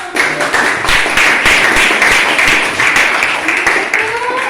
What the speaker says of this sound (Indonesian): Iya, tepuk tangan juga.